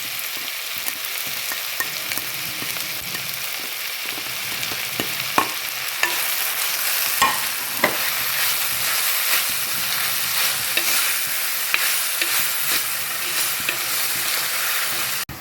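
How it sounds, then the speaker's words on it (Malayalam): Pomegranate pickle with rock salt is stirred in a hot pan, a constant close sizzle broken by scraping and light knocks from the spoon at irregular intervals, with no voices. "ആ കല്ലുപ്പ് ഇതിലിട്ടിട്ട് നമുക്കൊന്നും കൂടെ നന്നായിട്ട് ഇളക്കാം"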